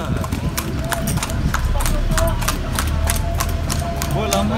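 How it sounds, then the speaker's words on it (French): Steady clip-clop of horse hooves on a street in Antsirabe, Madagascar, a regular rhythm of close hoofbeats under a busy outdoor background with people talking. "Et ici, à Antsirabe, on peut retrouver des chevaux."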